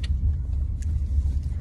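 Car driving, heard from inside the cabin: a steady, loud low engine and road rumble that holds evenly throughout with no voices.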